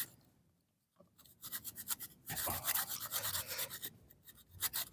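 A loa bonsai branch pinched tight against its trunk is cut slowly from behind, giving close, repeated rasping strokes after a quiet opening second, with the scraping growing denser and louder toward the end.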